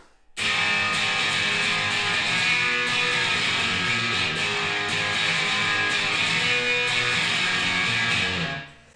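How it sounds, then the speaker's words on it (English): Crunchy electric guitar through a Boss DS-1 distortion pedal with the distortion set low, playing a song continuously for several seconds, strong and upfront, with sustained chords and notes ringing out before stopping. "I'm using a Boss DS1 distortion pedal with the distortion dialed way back, just to give it some crunch"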